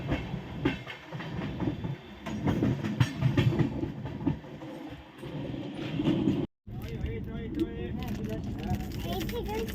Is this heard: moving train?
yes